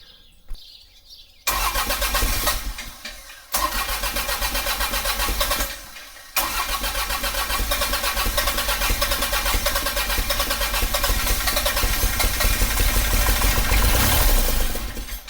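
A fire-damaged Kubota tractor diesel engine cranks briefly a few times, then catches and keeps running with a loud, steady clattering idle close by, no voices over it.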